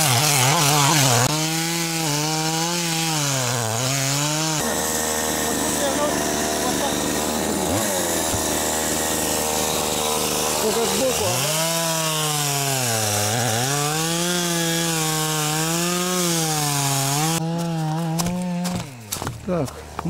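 A chainsaw engine roars close by while cutting through lake ice, rising and falling as it revs hard, drops to a rough idle, then revs up again to cut.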